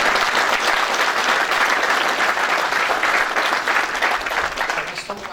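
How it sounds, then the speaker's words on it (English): A seminar audience at a health and wealth event gives a round of applause for a speaker: loud, steady, dense clapping from a full room that tapers off in the final second. "Give a round of applause."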